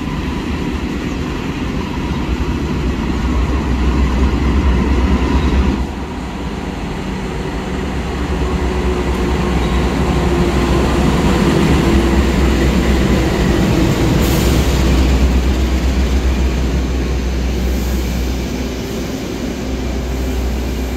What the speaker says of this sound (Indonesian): yang baru masuk di jalur 2 stasiun Lamongan ini adalah kereta api Jayabaya dari Jakarta Pasar Senen tujuan akhir Malang